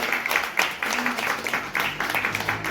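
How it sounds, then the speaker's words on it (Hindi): Moderately faint audience clapping at an Uttarakhand Kranti Dal political gathering, an uneven rhythm of claps continuing under someone speaking. "एक बार जोरदार तालियां से आप के लिए"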